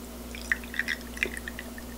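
Anchovy fish sauce trickles and drips into a bowl in a quick, uneven series of small splashes, close and fairly quiet, with no voices.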